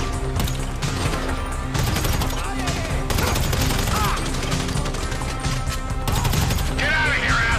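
Sustained gunfire in the video game Grand Theft Auto V, dense rapid shots and bursts rattling continuously and loud throughout, with clattering impacts mixed in.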